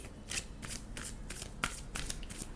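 Romance angel oracle cards being shuffled by hand in quick repeated riffles, about seven soft flicking bursts close up and quiet.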